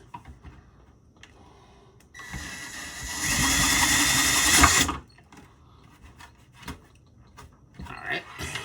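An electric drill bores a hole through an arcade control panel in a short burst of about three seconds of high whining and grinding, set between quieter handling noises.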